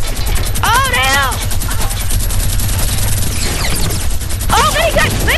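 A minigun fires in the Fortnite video game, a rapid, sustained rattle of shots running through the whole stretch, with excited voices calling out over the gunfire.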